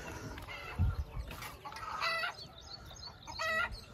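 Village hens cluck and squawk close by in a few agitated bursts, with a low thump near the start and a quiet rustling yard in the background.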